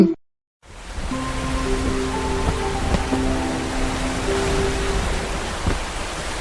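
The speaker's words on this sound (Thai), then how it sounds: "คุณแม่คะฝนตกหนักมากเลย" Heavy rain pours down as a steady, loud, dense wash of noise after a brief silence, with faint tonal hum layered within and no talking.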